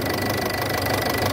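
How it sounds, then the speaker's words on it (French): A Ford Fiesta 1.4 TD diesel engine runs at a steady idle with an even, continuous rumble and slight knocking texture, close up and with no voices. "Et le moteur il tourne bien."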